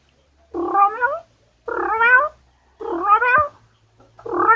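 A person's voice imitates a cat meowing, giving four drawn-out, wavering meows at a steady rhythm with short silent gaps between them, close and clear with no other sounds.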